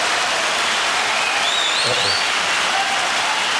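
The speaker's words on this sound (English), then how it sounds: "why are we clapping for a question?" A crowd of people applauds steadily throughout, a dense, loud wash of clapping with no break and no voices on top.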